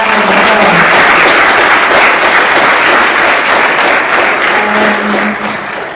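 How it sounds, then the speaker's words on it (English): Loud, sustained audience applause at a university civil rights keynote event, thick crowd clapping held at full strength for the whole stretch, easing slightly at the very end, with a brief faint voice early on. "let's give everybody another big round of applause"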